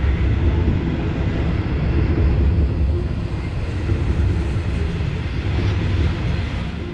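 A continuous low rumble and roar fills the whole clip as a train passes nearby along the Capricorn Highway in Australia, steady and loud without any voices.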